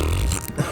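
One short, loud, guttural burp sits right up close, with no talking around it.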